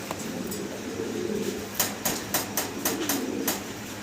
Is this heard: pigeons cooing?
yes